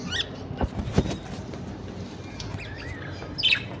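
Small birds in an aviary give scattered chirps and brief calls, faint against a steady background hum, with a couple of sharper knocks and a livelier burst of tweeting near the end.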